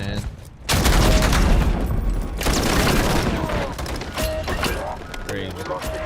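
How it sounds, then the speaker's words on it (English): Enemy weapons fire in MechWarrior 4 multiplayer: sustained loud rattling bursts and booms with mechanical clanks, close and continuous, and voices speak over parts of it. "I'm taking enemy fire"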